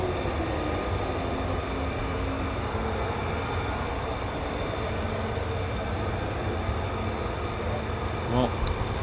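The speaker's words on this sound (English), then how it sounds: "Lots of startups now from the F-15E Strike Eagles." F-15E Strike Eagle jet engines start up at RAF Lakenheath, home of the 48th Fighter Wing, producing a steady, dense roar with thin high whines drifting over it, continuous and moderately distant.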